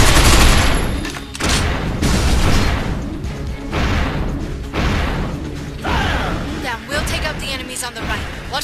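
Heavy gunfire and explosive bursts from the Binary Domain video game pound in repeated loud volleys with brief gaps, mixed with clanking mechanical combat noise.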